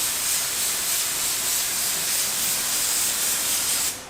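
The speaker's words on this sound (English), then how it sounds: "Me using an actual HVLP gun as if it was a can of spray paint" An HVLP spray gun sprays paint in quick passes, as if it were a spray can, while a parked Ranchero is being refinished: a loud, steady, close airy hiss that cuts off near the end.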